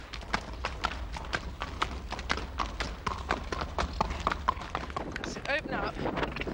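Horse hooves clip-clop in a steady, fast rhythm on a firm surface at an equestrian sport event, close and fairly loud, with people talking over the hoofbeats and a brief whinny-like squeal near the end.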